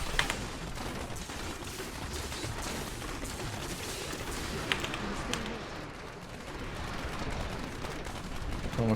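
Dense, continuous volleys of explosions and crackling impacts from a Demon Hunter in Diablo 3 Reaper of Souls play at low level, with sharp bursts scattered throughout.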